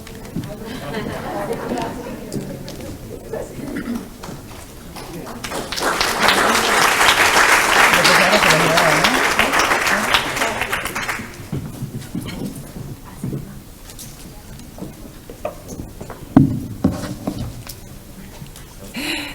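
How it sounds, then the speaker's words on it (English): Audience applause for a morning panel at a conference event swells into a broad, sustained clap for several seconds, then fades back under murmured talk and chatter from the room. "we would like to give a round of applause to our panelists for this morning"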